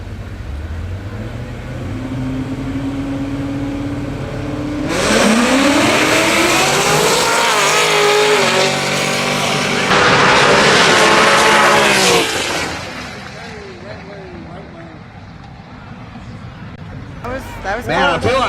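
A Roush Mustang and a hot rod Camaro launch side by side in a drag race, engines roaring loudly and rising in pitch through the gears, with a second surge of revving before fading to idle and crowd noise.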